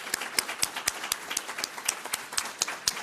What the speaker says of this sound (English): Let's take a minute and cheer for our graduates.